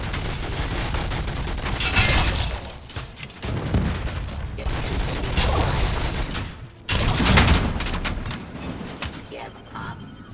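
Sustained sniper and suppressing gunfire in RoboCop: Rogue City, dense bursts and booms rolling on steadily with mechanical clatter, loud and close, with a brief drop near the middle.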